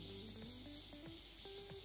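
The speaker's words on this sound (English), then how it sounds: "So we're supposed to spray all that to look like this." An aerosol spray can hisses steadily as paint is sprayed onto a model kit, giving a continuous soft hiss under faint low tonal background sounds.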